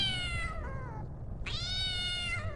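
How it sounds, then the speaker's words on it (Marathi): A black cat yowls in a strange, drawn-out voice, two long wavering meows close up, the second rising sharply, over a low background rumble. "कठड्यावर एक काळी कुट्ट मांजर बसली होती आणि आमच्याकडे पाहून अतिशय विचित्र आवाजात ओरडत होती"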